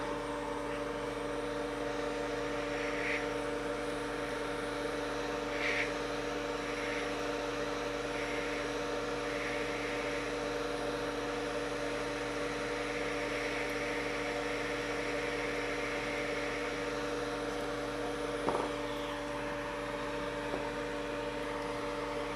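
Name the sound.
hot air heat blowing on SSD for data recovery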